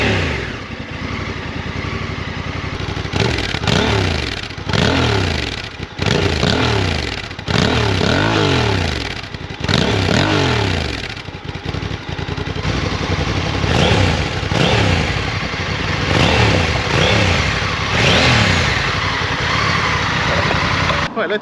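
A 2024 Honda NT1100 motorcycle with its stock exhaust idles up close and is blipped through a series of sharp, throaty revs that rise and fall, ending in a steady idle.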